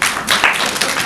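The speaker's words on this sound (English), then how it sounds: "they deserve a round of applause" A crowd at a travel trade gathering breaks into dense, loud applause, many hands clapping close by in a continuous wash with brief swells, no voices standing out.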